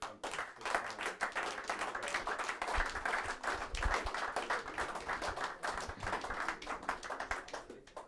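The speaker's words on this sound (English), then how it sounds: "a round of applause for both players" An audience applauds for both players after the final of the IPA Pro Open in Newport, a dense, sustained round of clapping that stays steady before tapering off.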